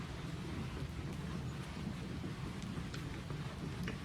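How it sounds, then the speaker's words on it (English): Steady light rain pattering on window glass on a rainy coastal night, a soft continuous wash with occasional faint drop ticks. "The rain continues on the glass, lighter now than before."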